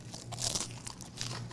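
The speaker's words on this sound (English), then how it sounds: "Listen to that crunch." Crisp crunch of biting into a cannoli shell, crackly bursts up close that rise and fall over a second or so.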